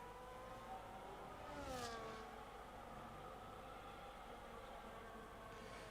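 An F1 race car in the F1 25 video game revs its engine, rising harmonic tones that swell and sweep upward once around two seconds in, then settle into a steady hum under a low, continuous background.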